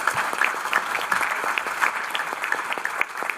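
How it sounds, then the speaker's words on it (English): Steady applause from a conference audience at a Paris ministerial dialogue on clean energy, marking the IEA's 50th anniversary, fills the room with dense, even clapping that holds at a moderate level throughout. "And you got your applause"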